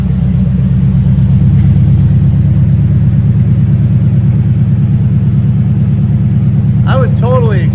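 Pickup truck engine idling steadily with its exhaust removed, a deep low rumble throbbing evenly and loudly throughout; a brief voice-like sound rises near the end.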